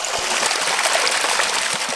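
Water streams steadily through a gold sluice box while feeding material on a hillside dig, a close, continuous rushing trickle with faint low splashes and no talking.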